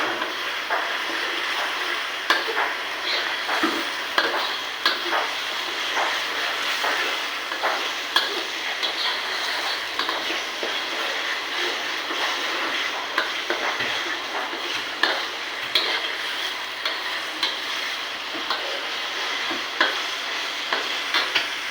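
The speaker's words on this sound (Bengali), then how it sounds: "মশলাটা ভালো করে কষাই নেব।" Spice paste with chilli powder frying and being stirred for a duck curry with coconut milk, a steady close sizzle broken by frequent scraping stirs of the spoon in the pan, with no voices.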